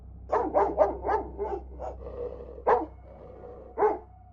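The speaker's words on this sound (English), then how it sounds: "we heard the dog barking downstairs" A dog barks downstairs in a house, a quick run of sharp yapping barks followed by two more spaced-out barks, moderately close and clear over a low hum.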